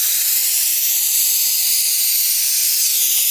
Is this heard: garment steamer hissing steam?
yes